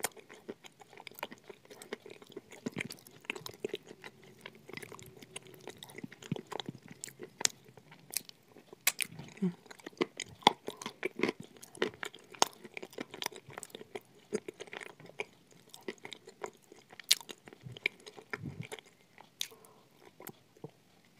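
Someone bites and crunches chunks of Uzbek blue clay up close, producing a steady stream of dry, crackling crunches and sharp snaps with no talking.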